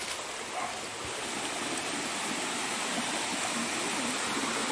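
Steady broadband rush of water pouring from a spout at a waterfall swimming spot, continuous and fairly close, with no voices over it.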